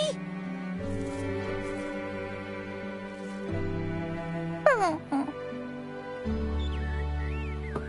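Puppy whimpering in the Infinity Nikki video game, short high whines and yelps heard near over soft game music.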